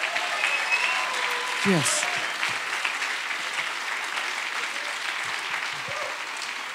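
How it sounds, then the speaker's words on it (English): A church congregation applauds in a dense, even wash of clapping that holds throughout, with a brief spoken word and a few murmurs showing through. "we applaud you tonight"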